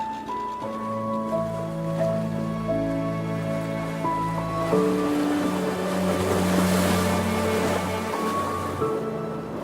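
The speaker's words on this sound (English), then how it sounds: "you get on the skiff and you only have a 2-minute boat ride to the dive spot." A skiff's motor hums steadily over rushing water and spray on a short ride to a dive spot off Socorro, with a low continuous drone throughout and no voices.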